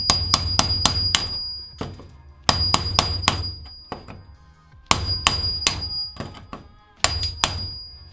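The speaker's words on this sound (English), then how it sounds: "and then it'll hammer out real quickly" Sharp metal hammer blows on a rivet cut through on a school bus body, struck in quick clustered bursts of four or five ringing clanks with short pauses between, loud and close.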